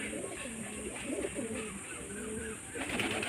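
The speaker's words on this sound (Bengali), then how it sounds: "এ দুটো ছাপগা আমার অনেক পুরনো লাইনের পায়রা" An old-line pair of Madras pigeons, male and female, coo in low, repeated, rolling phrases close by, steady over soft background hiss, swelling slightly near the end.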